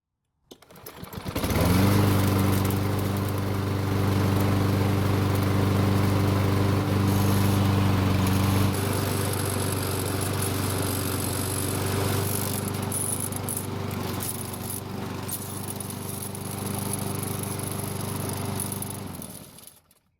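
A Lawn Boy self-propelled lawn mower with a faulty self-propel drive starts and then runs steadily. The engine drone is loud and close, holds an even idle, and shifts slightly partway through, with no talking.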